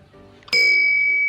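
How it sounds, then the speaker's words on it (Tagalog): A home doorbell rings once with a bright electronic chime, sharp and loud, its tone ringing on steadily after the strike. "literal na doorbell na naman"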